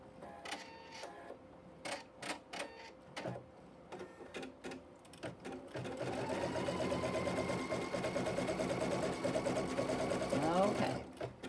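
An embroidery sewing machine runs a continuous, fairly loud stitching drone for the second half, stitching a Flying Geese quilt block. Earlier there are intermittent clicks and shorter bursts, and a voice is heard briefly.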